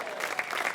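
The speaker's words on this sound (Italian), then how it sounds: "un altro grande applauso al nostro amico Luca" An audience applauds at an open-air concert in Piazza Manzoni, Jesolo, a brief burst of dense, steady clapping from a crowd, fairly near and even in loudness.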